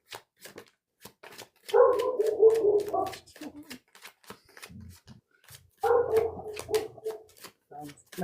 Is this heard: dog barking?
yes